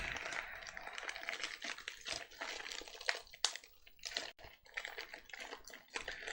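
Keys tap steadily on a wireless media PC keyboard, a quick, irregular run of close, quiet clicks with brief pauses and no voices.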